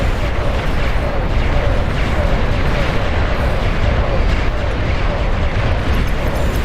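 A loud, sustained roaring blast from a commander unit exploding in Beyond All Reason, a broad rumbling wash of detonation noise that holds steady without a break.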